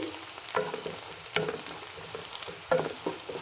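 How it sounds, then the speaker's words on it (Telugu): Onions frying in a pan as cumin and mustard seeds go in for a dondakaya (ivy gourd) fry, giving a steady close sizzle broken by a few louder stirring or tossing bursts, with no talk. "ఆనియన్స్ ఫ్రై అవుతున్నప్పుడు ఒక స్పూన్ జీలకర్ర వేస్తున్నాను హాఫ్ స్పూన్ ఆవాలు"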